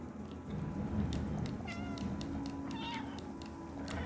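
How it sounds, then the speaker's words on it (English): Cat meowing in the video game Stray, a few faint drawn-out meows over a steady game soundscape with low background rumble, no talk. "I did not put any different mods over the meowing yet."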